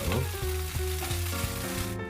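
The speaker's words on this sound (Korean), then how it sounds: "어느 정도 두부와 명란이 구워졌으면 참기름 한 큰술 둘러주겠습니다." Tofu and pollock roe searing in a pan with sesame oil, producing a loud, continuous hiss and crackle up close with faint scraping stirs, ending abruptly.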